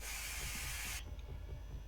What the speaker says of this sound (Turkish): Burada sıcak sprey varmış.